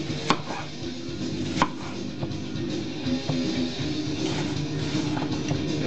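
A knife chops an onion into large stir-fry pieces on a board, with a few sharp, separate strikes standing out over a steady, close background hiss.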